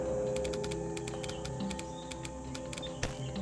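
Rapid clicking keystrokes on a computer keyboard as commands are typed into Camelot 10000CE, a steady string of light taps with brief pauses, close and fairly quiet, no talking.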